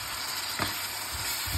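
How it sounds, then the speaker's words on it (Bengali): Washed dried fish (shutki) frying in a pan, a soft continuous sizzle with a brief hiss spike and faint clinks, no talking. "একটু ভেজে সেটা দিয়ে দিচ্ছি।"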